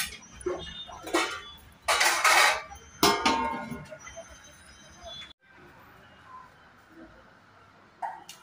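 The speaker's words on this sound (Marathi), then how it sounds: "ठेव झाकण त्याच्यावर." A metal lid is set onto a cooking pot of sweet pineapple sheera in a home kitchen, giving a couple of short clinks amid household background noise.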